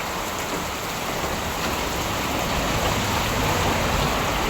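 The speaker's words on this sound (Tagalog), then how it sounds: "Grabe yung hangin din dito." Heavy rain from Typhoon Kristine (Trami) pours in a dense, steady roar mixed with rushing wind, loud and unbroken from start to finish, in the Bicol region of the Philippines.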